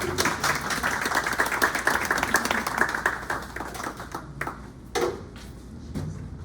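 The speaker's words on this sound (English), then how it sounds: "Avni, let's give her a round of applause, of course." An audience at a poetry reading in a bookstore claps for a poet, a dense burst of applause that thins out into a few scattered claps.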